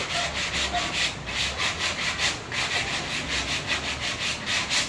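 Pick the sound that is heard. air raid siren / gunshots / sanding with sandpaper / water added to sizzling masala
sanding with sandpaper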